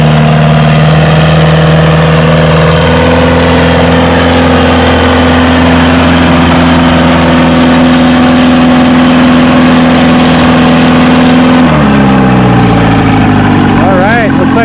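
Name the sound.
Ford and Oliver tractors in a tractor pull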